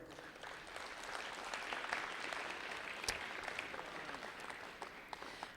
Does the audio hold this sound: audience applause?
yes